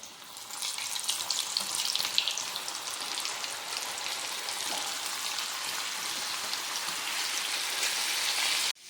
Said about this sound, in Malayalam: ആദ്യം ഈ ചെറിയ കൂട്ടം അങ്ങെടുത്ത് എണ്ണയ്ക്കകത്തോട്ട് ഇടുക